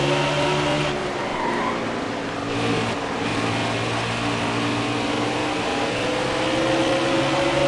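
Race cars in NASCAR Heat 4 roar steadily at close range in a dense pack, engine drone holding loud and continuous with slight pitch shifts as cars close in, no talk.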